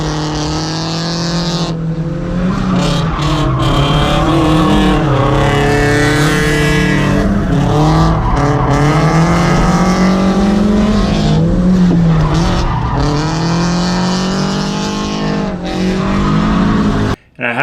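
A Mazda Miata drifts hard, engine revving high with rising and falling pitch and tires skidding and squealing almost continuously for the whole stretch, loud and close.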